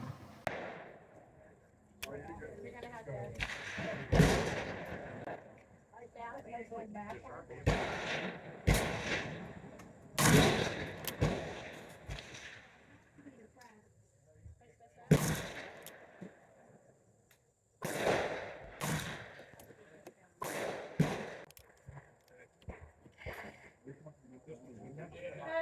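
A Pietta 1851 Navy .36 cap-and-ball revolver firing .375 round balls outdoors: a string of sharp, loud shots spaced a few seconds apart, each with a short ringing decay, separated by quieter gaps with faint voices.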